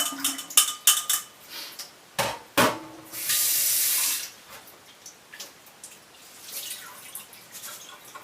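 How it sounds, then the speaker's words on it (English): Water drains from soaked quinoa through a metal strainer in a kitchen, opening with clinks and knocks of cookware and then a steady, close rush of pouring water before softer trickles. "So what I'm going to do now is strain out the water."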